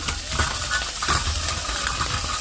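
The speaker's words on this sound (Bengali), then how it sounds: "এদিকে করলা ভাজাটাও হচ্ছে করলার সাথে আলু দিয়েছি কয়েকটা যাতে তিতে না লাগে" Bitter gourd and potatoes frying in a pan, a steady close sizzle and hiss with occasional stirring scrapes and clinks throughout.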